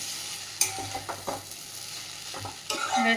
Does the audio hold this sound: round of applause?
no